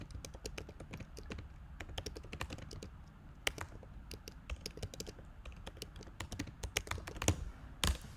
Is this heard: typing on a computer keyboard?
yes